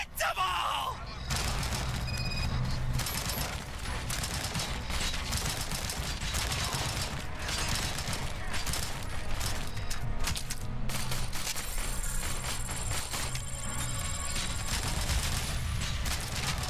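Sustained rapid gunfire in Robocop: Rogue City keeps going as a dense, continuous barrage of shots and impacts, with groans and faint voices mixed in underneath.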